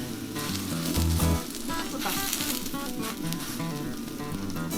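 Steady oily sizzling of cabbage pancake batter frying in a hot pan, continuous and close, with a brief louder hiss early on and faint clinks.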